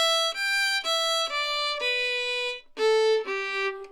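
Solo fiddle playing a fancy version of an Irish march tune, a string of clear bowed notes with crisp attacks and a short pause before the final phrases, close and alone.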